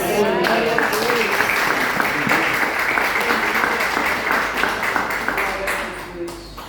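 A church congregation applauds the Lord during a Portuguese-language worship service, dense sustained clapping filling the room for several seconds before gradually tapering off.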